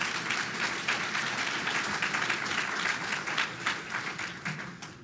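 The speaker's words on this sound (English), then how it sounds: "Y'all can now give them a big round of applause for their service." At an electric cooperative's annual member meeting, a crowd gives sustained applause, a thick, even patter of many hands heard from a short distance that tapers slightly toward the end.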